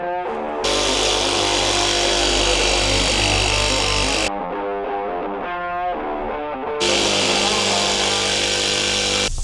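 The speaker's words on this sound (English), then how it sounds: "cut that with the jigsaw" A jigsaw cuts a wooden end panel in an old campervan with a loud, buzzing, distorted whine. It runs steadily, pauses briefly in the middle while a lower hum continues, then resumes cutting.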